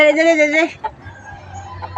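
A chicken gives a short burst of clucking at close range, then a few softer sounds follow over low background noise.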